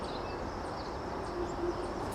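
A young bird calling out for food beside the River Thames, heard as a few faint, brief cries over steady outdoor background noise.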